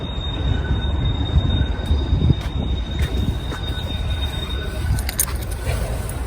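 Train rolling past close by, a loud continuous rumble and clatter of rail cars with metallic wheel squeals and high screeches toward the end, no talk over it.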